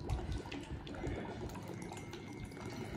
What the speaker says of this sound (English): Just pour the water.